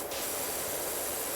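High-pressure water spraying from a pressure washer in the video game PowerWash Simulator, a steady, loud, broadband hiss running continuously without a break.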